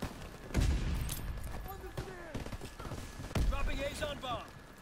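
Itra Burst rifle in Call of Duty WW2 fires two quick bursts of close, punchy shots with short echoing tails, mixed with game sounds and someone talking over it.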